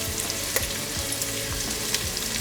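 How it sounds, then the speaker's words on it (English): Chili peppers and garlic sautéing in a pan over high heat give a steady close sizzle and crackle, with small pops scattered through it and no one talking. "we're gonna let this saute up on high heat now"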